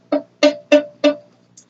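Four short, scratchy violin notes played with a finger only partly pressed on the string, buzzy and thin, evenly spaced and close, with no talking.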